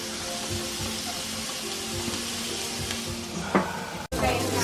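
Burgers and sausages sizzle on a barbecue in a close, steady hiss of frying fat, with a few small pops and a sharp knock near the end.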